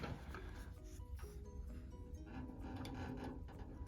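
A Powermatic 6-inch wood jointer runs with a steady broadband mechanical drone and a faint rubbing scrape throughout, continuous and fairly loud, with no talking.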